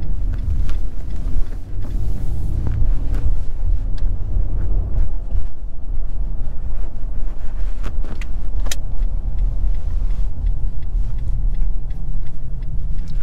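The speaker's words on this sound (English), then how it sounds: "behind the wheel of the Nissan Frontier" A 2022 Nissan Frontier Pro-4X mid-size pickup with a 9-speed automatic heard from inside while driving, a steady low engine and road rumble with scattered small clicks and rattles throughout, no talking.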